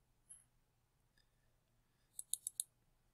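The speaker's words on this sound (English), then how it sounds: "we can quickly double left click it" A computer mouse clicks quietly in a quick cluster of four crisp taps near the end, after a lone click earlier, in an otherwise silent room.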